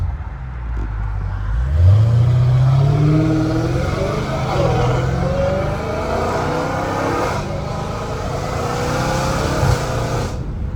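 A Hellcat Redeye with an aftermarket intake revs hard nearby, its pitch climbing in one sweeping wind-up before settling into a loud, rough, sustained roar.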